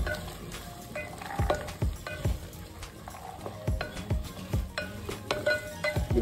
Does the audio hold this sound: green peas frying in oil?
yes